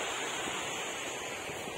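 A clear stream flows during a walk on a hot day, heard as a steady, broad rush of water that stays constant and fairly faint throughout, with no voices.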